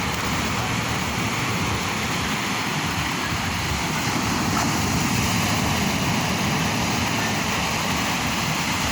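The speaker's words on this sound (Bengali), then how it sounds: "ওই দেখি বড় ঢেউ" Sea waves on Cox's Bazar beach at night, a loud steady roar of surf with no distinct breaks, continuous throughout.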